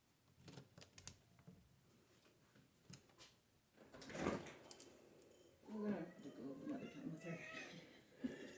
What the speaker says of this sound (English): I heard the cat screaming.